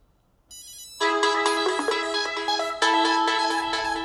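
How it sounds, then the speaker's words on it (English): A smartphone ringtone set off by a CubiTag Bluetooth key tracker, a bright melodic electronic tune that starts quietly, then plays loud and clear in repeating phrases. "you can just double press on the tracker and it'll start ringing your phone"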